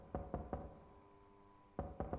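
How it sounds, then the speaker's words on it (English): Knocking on a metal door in a video game: three sharp knocks, a pause, then three more, close and fairly loud with a faint hum between. "There's a metal door, so it makes a different knocking sound"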